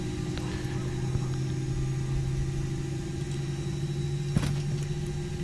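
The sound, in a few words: Airbus A320 engine running in X-Plane 10 video game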